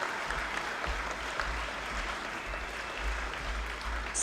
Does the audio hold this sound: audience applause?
yes